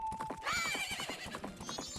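Epona, the horse in the video game Majora's Mask, gives a loud, close whinny over quick clip-clop hoofbeats.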